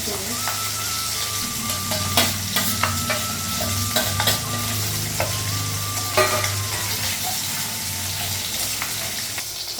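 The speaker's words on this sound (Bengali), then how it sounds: "কড়াই একটা শুকনো লঙ্কা কাঁচা লঙ্কা দিয়েছি আর পাঁচ ফোড়ন লাগানো" Dry red chillies, green chillies and panch phoron frying in a wok, a loud steady sizzle near at hand broken by repeated clinks and scrapes of a spatula stirring against the metal.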